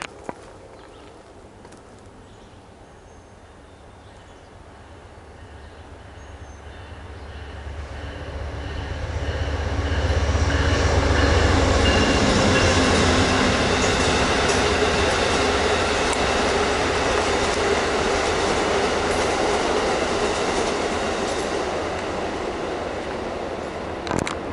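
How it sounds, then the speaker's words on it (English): A train running past on the rail line toward Washington, swelling from a distant hum into a loud, sustained rumble and clatter of cars, then easing slightly, heard outdoors with no talking. "that train there you just saw is the current rail line that goes all the way down to Washington"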